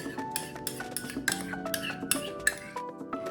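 A spoon scrapes and clinks steadily against a bowl while potato salad with radish and cold fried bacon is mixed, giving quick, bright metallic taps up close.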